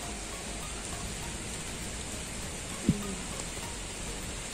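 Rain falls steadily outdoors in a constant, even hiss that lasts throughout, with one brief knock partway through and no one speaking.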